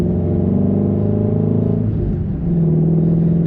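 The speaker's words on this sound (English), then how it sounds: "So the GT500 revs slower in gear, but it's easier to rev match" Ford Mustang GT500 engine held at a steady, loud rev with a dip near the end as it is rev-matched, a continuous close rumble with no talk.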